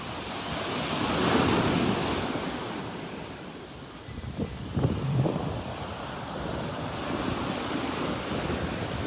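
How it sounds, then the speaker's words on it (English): Ocean waves break and wash steadily onto the beach at Vanderbilt Beach in North Naples, a continuous surf roar with a gentle swell near the start and a slightly stronger set rolling in midway, with wind noise over it. "Wave's got a little bigger here."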